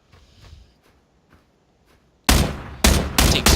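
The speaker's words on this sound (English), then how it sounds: "Take some shots back at him." Video game gunfire: after quiet background, bursts of loud rifle shots ring out in rapid clusters, close and sharp.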